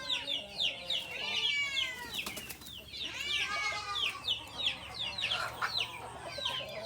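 Chickens cluck and squawk close by in a busy flock, with short bursts of wing flapping partway through.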